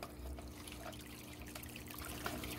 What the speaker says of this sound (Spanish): la ventaja de estos filtros de cascada, mantienen el agua en movimiento